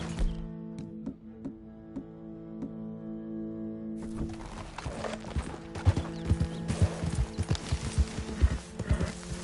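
Horse hooves in Red Dead Redemption 2, starting as a few slow, spaced clip-clops over a steady game music drone, then quickening into a loud, rhythmic gallop with crisp hoofbeats that carries on to the end.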